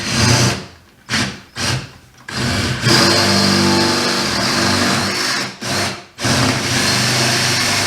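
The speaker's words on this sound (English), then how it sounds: "So we're gonna drill our hole" A power drill bores straight into a car's wide-body panel with a loud, steady whirring whine, stopping and restarting several times in short bursts before one long continuous run.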